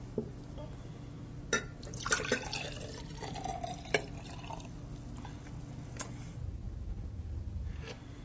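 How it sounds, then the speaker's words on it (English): Juice poured into a glass makes a quiet, steady liquid trickle that picks up toward the end, following a few small clinks and taps in a hushed room. "Now we're going to pour this juice into this glass."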